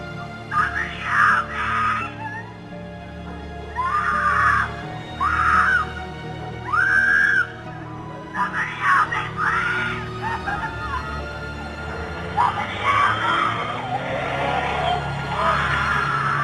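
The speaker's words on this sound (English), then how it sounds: "gut-wrenching screams can be heard coming from down the road" A girl screams from down the road, captured by a Ring doorbell camera: repeated high, strained wails in bursts of about a second, distant and echoing, over a steady electrical hum.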